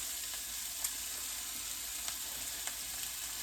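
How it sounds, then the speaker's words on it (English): Steak for Mexican steak and beans browns in a hot pan over medium-high heat, giving a steady, broad sizzle with a few sharp pops and crackles scattered through it, close and even in level, with no voices. "we're going to brown the meat"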